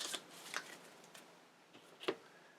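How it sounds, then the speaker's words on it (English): A deck of board game monster cards is shuffled by hand, with a few soft riffling flicks and one sharper snap near the end, close and quiet with no talk. "you just shuffle up the monster deck"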